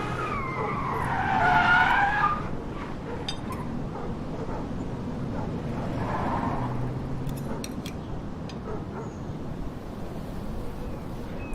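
A car in Life is Strange Remastered reverses fast, its tires skidding and squealing loudly for about two seconds early on, then the engine and road noise fade into a steady, quieter background.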